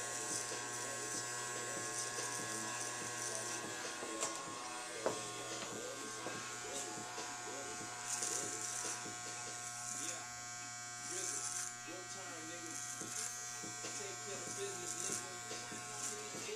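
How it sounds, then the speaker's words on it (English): An electric hair outliner trimmer buzzes steadily as it cleans up the neckline after a back taper haircut. The close, continuous motor hum runs throughout while a person talks over it. "I like to take my outliners and like to clean it up, go over it one last time."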